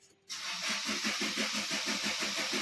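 A car engine cranks and catches after a battery check, then runs with a steady, loud mid-range roar and a rhythmic pulsing throughout, close by with no talk.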